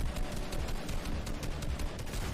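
Rapid bursts of gunfire in a Fortnite Champion Series duo final match, a dense run of sharp, repeated shots close together filling the whole moment, with no talk over it.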